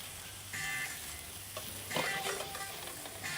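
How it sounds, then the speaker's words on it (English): Food frying in a pan gives a steady close sizzle, with brief stirring scrapes and spits rising over the hiss. "I'm going to keep this frying."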